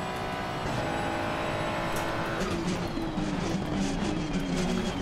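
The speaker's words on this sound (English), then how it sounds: "you can hear the traction control kicking in there as you come off the corner" Ferrari 296 in a racing game at Spa, traction control cutting in coming off a corner: a loud, close engine note with a stuttering, rising pitch and tyre noise, heard alone.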